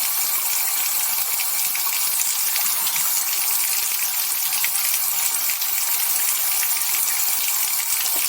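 Water poured out of a film developing tank after processing Ektar 100 120 film, a steady broadband gush that runs loud and continuous throughout with a faint rattle.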